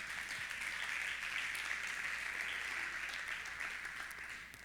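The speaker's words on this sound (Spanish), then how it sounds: "Dale un aplauso al Señor" A church congregation applauds together in a dense, continuous wash of clapping heard from a distance, fairly soft and steady, tapering slightly at the end.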